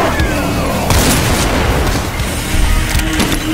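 Grenade blasts in Doom Project Brutality at the Toxin Refinery: heavy booming explosions with low rumble, several bursts overlapping in quick succession, loud and close, with game noise throughout.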